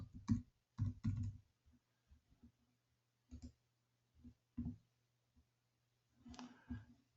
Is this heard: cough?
no